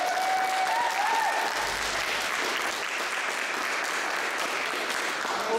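Steady applause from an audience at a table tennis tournament awards ceremony, a dense continuous wash of clapping that stays even for several seconds.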